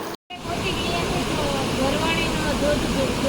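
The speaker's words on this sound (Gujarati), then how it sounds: "સામે જે દેખાય છે તે ઝરવાણીનો ધોધ છે" Zarvani waterfall near Rajpipla pours out a steady, broad rushing roar heard from some distance, continuous after a brief cut at the start.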